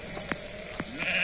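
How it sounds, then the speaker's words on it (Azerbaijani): Sheep at a livestock sale for a flock of pregnant ewes, with two or three short bleats ringing out close by over a soft background hum and no talking. "hamısı döldədir qoyun"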